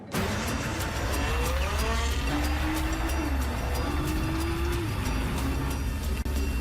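Nissan GT-R supercar driven on a factory test run over rough road, its engine a steady continuous drone with rising and falling pitch as it accelerates and shifts, close and loud throughout.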